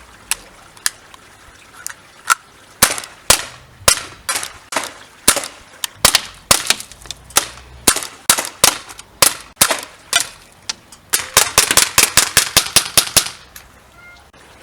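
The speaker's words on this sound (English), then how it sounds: "we're going to be firing we'll fire 8 shots from a freestand position" An ASG CZ P09 .177 pellet air pistol fires a long series of sharp, snappy shots, loud and close, spaced irregularly at first and then coming in a rapid cluster near the end.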